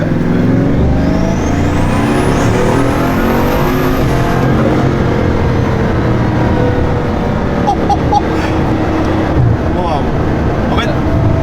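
A Bugatti Chiron Super Sport with its 1600 hp engine roars continuously and loudly as it accelerates, a rising whine sweeping upward while the turbo dump valves chatter with fluttering bursts late on; a voice talks over the engine.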